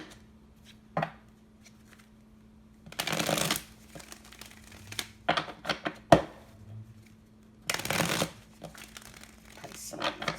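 Tarot cards shuffled by hand in bursts, a couple of long riffling bursts and several shorter shuffles with quieter gaps between, close and moderately loud.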